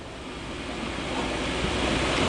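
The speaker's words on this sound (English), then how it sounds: "When the rinse concludes and we speed up our purge, instead of water falling down in the window, we'll have a circular motion" Spin rinse dryer (SRD) spinning up into its purge cycle, a broad, steady whooshing rush of air and water that slowly grows louder over two seconds, with no voices.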